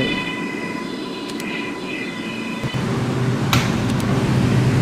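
Subway train on the M line running in the Roblox video game, with a steady rolling rumble and whine, a few brief higher screeches, and the sound swelling slightly louder in the second half.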